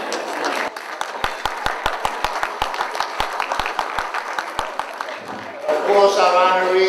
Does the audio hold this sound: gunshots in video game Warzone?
no